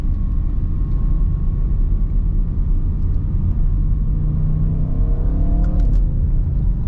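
A 2021 Audi RS6 Avant wagon accelerating hard, a continuous low engine rumble and road roar that rises in pitch toward the end, heard from inside the cabin without talk.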